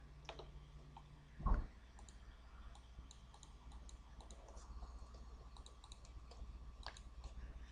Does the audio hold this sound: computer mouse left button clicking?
yes